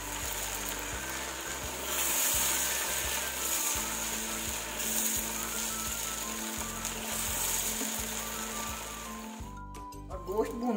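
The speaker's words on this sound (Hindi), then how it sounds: "गोश्त को हम अच्छी तरह भून लेंगे।" Meat fries in a pan with whole spices, coriander seeds and green cardamom for chicken pulao, a steady crackling sizzle with rhythmic scraping and stirring throughout.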